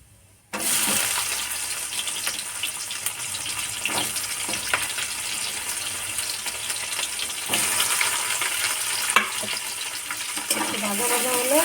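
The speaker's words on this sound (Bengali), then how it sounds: "পেঁয়াজটা ভাজা হয়ে গেছে" Chopped onion, green chili and whole cumin frying in oil in a pan, a dense, continuous sizzle with occasional clinks of a utensil, loud and close throughout.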